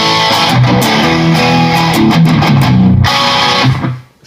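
An electric guitar plays through a Protone Bulb Overdrive Deluxe pedal, with loud, sustained distorted chords and notes that ring out and fade at the close.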